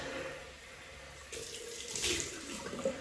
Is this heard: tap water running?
yes